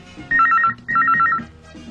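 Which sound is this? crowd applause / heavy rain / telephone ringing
telephone ringing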